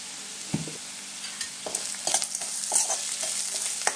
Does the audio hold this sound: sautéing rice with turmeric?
yes